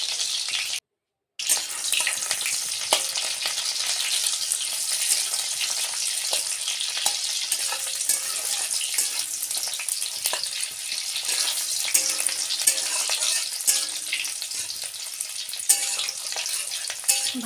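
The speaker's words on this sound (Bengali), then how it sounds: "এবার পেঁয়াজ কুচিও দিয়ে দেবো, দিয়ে কিছুটা লাল লাল করে ভেজে নেব।" Chopped onion, green chilli and garlic frying in oil, a continuous bright hissing sizzle, close and steady, with occasional faint stirring clinks and a brief gap near the start.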